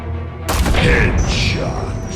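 Gunfire in Batman: The Telltale Series, a sudden loud burst of shots opening after a brief lull, then a sustained rumbling, reverberant wash beneath a talking voice.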